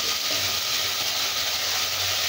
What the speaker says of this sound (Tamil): இஞ்சி பூண்டு பேஸ்டோட பச்சை வாசனை போகிற வரைக்கும் நல்லா வதக்கிக்கலாம்.